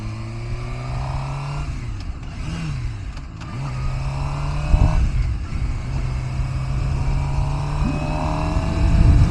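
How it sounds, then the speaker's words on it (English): Suzuki GSX-R motorcycle engine revving and dropping as it gears down on the road, with pitch rising, dipping and blipping between shifts, close and loud over steady wind roar. "people like to play with their machines to make interesting noises when they gear down"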